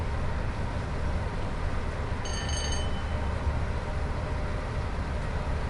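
A Class 08 shunting locomotive near Crewe in the video game Train Sim World 6, a steady low rumble and rolling drone that runs continuously at moderate level, with a brief faint whistle-like tone partway through.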